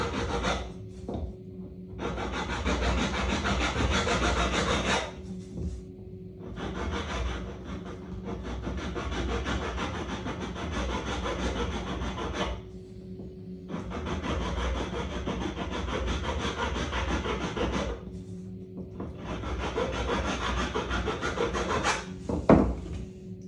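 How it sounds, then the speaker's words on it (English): A hand file scrapes back and forth along the edge of a bamboo bike frame tube, working in three long steady bursts separated by short pauses, loud and close with no talking. "So this is where you can take your file now and just clean that edge off."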